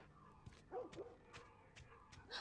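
Dog in The Last of Us video game giving short yips and whimpers, several brief cries spaced across the moment over faint game ambience.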